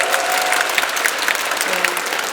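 An audience at an open talk during a film festival claps in a steady, dense wash of applause, loud and continuous for a couple of seconds with no voices over it.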